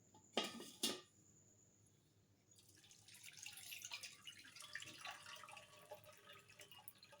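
Soaked urad dal and rice being washed by hand in water in a home kitchen, with two sharp clatters of a vessel followed by steady sloshing and splashing.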